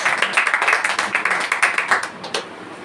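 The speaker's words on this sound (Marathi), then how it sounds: "आपण टाळ्या वाजवून भावाचं स्वागत करूया" A congregation claps together to welcome a brother at a Marathi church gathering, a steady run of close, fairly loud claps with a few sharper ones standing out and no talk over them.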